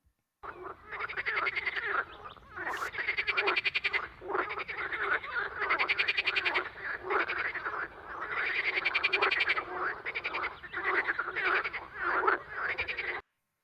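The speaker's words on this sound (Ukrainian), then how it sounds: "для приваблення самиць самці видають певний набір звуків, який підсилюється за допомогою резонаторів" A chorus of male frogs calls to attract females, rapid pulsed croaks amplified by vocal resonators rising and falling in dense overlapping bursts, fairly close and loud, with no voices.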